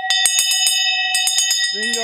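A hand bell is rung repeatedly in quick bright strikes with sustained ringing tones, near and loud, at a winter Christmas gathering; a voice enters toward the end.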